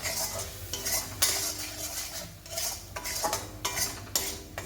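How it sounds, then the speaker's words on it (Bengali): A spoon stirs and scrapes spice paste in a pan for prawn malai curry, with repeated metallic clinks and scrapes over a faint sizzle from the cooking paste, close up and uninterrupted. "এগুলো দিয়ে আমি এবার ভালো করে মশলাটা কষিয়ে নেব"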